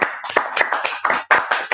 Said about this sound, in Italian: gli applausi che sentite non sono fatti da persone che stanno dall'altra parte del computer, sono totalmente registrate